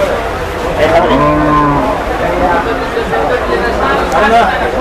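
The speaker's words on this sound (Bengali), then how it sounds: "একরামের পাশে অনেক গরু" Several cattle moo in long, low calls close by at a cattle market, with people chattering in the background of a busy outdoor crowd.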